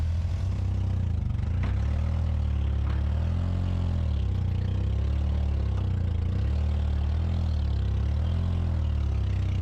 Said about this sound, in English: just need to hear that engine turn over